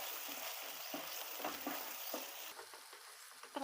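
Paneer curry with fresh cream cooks on low gas with a soft, steady sizzle and gentle bubbling, close up and faint, with light stirring scrapes and no voices.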